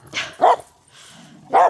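Dogs playing on a walk let out three sharp, close barks in quick succession, the middle pause filled with a low growl-like rumble.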